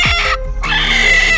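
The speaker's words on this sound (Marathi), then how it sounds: "ही देखील कोंबडी अंड्यांवर बसलेली आहे" A brooding Kudak hen sitting on eggs on an organic farm gives a few close, loud clucks in quick succession, with no talk.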